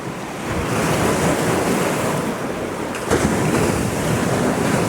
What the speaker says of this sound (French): Les vagues grandissent.